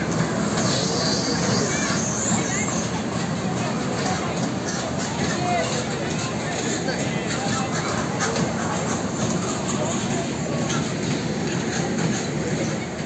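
A small children's ride train at a fun fair in Kalyan rumbles and clatters steadily nearby, wheels faintly squealing, with a busy crowd murmuring throughout.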